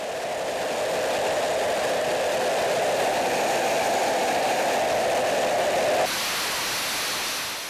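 Fighter jet engine running on a test stand in an air force engine test facility, a loud, steady broadband roar that holds for several seconds before its tone abruptly shifts near the end.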